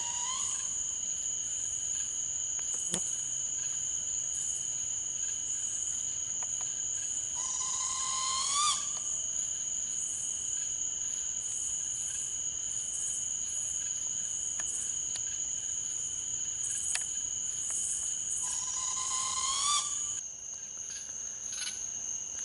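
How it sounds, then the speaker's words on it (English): Short rising chirping calls of a southern flying squirrel come in a few brief bursts over a steady high insect drone at night at a campsite, with no voices. "That noise you hear is the southern flying squirrel."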